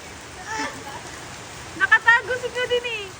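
Steady rain patters in the background while people talk and call out nearby.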